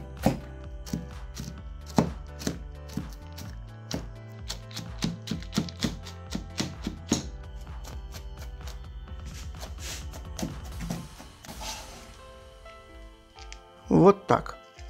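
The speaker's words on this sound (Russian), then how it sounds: "Вторую часть крошим ножом, чтобы орехи на зубах чувствовались." A knife chops walnuts on a board in quick, crisp, evenly spaced strokes that fade into softer scraping. Someone talks near the end.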